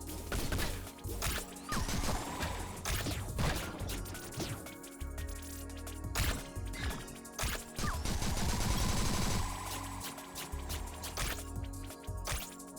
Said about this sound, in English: No, we're getting shot.